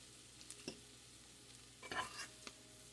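Breakfast taco filling sizzles quietly in a frying pan, with a few soft scraping stirs and brief crackles over a low, steady hiss. No voices.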